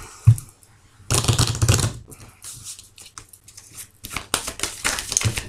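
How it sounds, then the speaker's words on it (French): Oracle cards are shuffled up close in rough, papery bursts of riffling and rustling, with a brief thump near the start and short gaps between shuffles, and no talking over them. "je vais bien mélanger"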